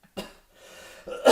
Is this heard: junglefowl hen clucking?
no